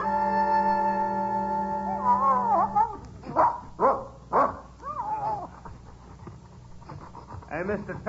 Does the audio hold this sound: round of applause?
no